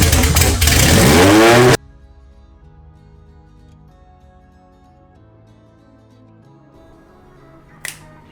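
A Honda Civic with a B18C engine revs hard for under two seconds, a loud rising roar that cuts off abruptly and leaves a quiet hum and a single faint click afterward.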